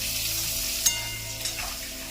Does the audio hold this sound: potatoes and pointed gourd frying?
yes